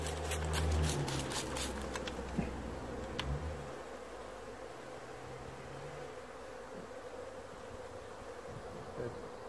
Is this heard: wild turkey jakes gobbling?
no